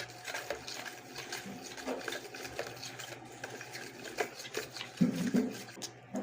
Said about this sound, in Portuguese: Vou colocar açúcar. Vou mexer mais uma vez.